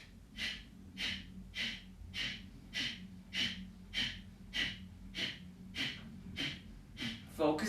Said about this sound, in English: Let's take a deep breath in. Both nostrils.